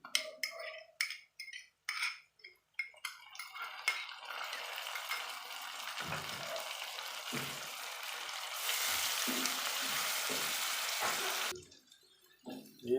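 Onions browned to a light golden colour sizzle and fry in a pan as garlic-ginger paste is added for savoury namkeen seviyan, a steady hiss of frying with occasional stirring clinks and bursts, close and moderately loud.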